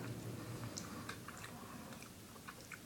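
Faint, close-up chewing of a grape-flavoured Trolli Big Bold gummy bear, with soft, wet, squishy bites repeating steadily for a few seconds and no talking.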